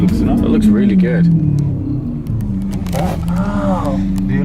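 A Lamborghini exhaust rumbles and rises in short revving swells, close and prominent, while people chat over it.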